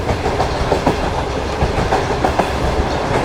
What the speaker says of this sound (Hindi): लोकोमोटिव देखिए आप कहाँ घूम रहा है।